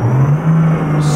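A truck engine in American Truck Simulator drones with a loud, steady low hum and a faint whir above it, the pitch holding nearly level throughout.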